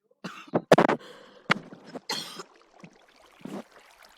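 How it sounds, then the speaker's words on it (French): A person coughs repeatedly in irregular bursts, several sharp, close hacks with short throat-clearing rasps between them, no talking. "Se retenir de tousser, c'est difficile."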